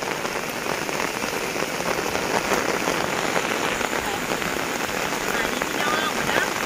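Steady heavy rain pours down onto surfaces nearby at an outdoor market, a dense, even patter that continues without pause.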